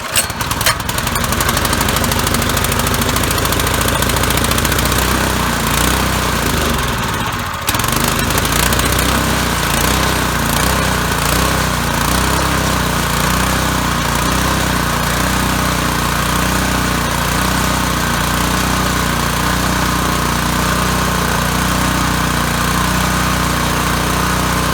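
Small tiller engine running loud and steady at full throttle, close by, a constant rough buzzing drone with a brief dip early on, no talk over it.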